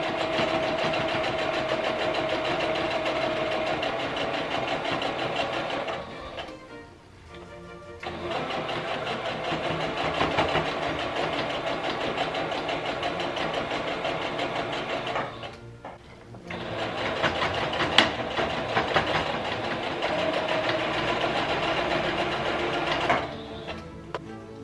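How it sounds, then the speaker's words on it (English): Sewing machine stitching a sleeve seam on a simple summer dress, a loud continuous motor whir running close up with two brief pauses. "I'm going to sew these 4 inches"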